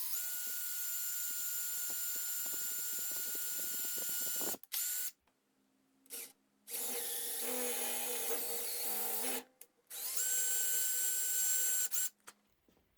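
A drill bores pilot holes into plywood in a few bursts of high whirring separated by short pauses, close and fairly loud, with faint clicks before the first run.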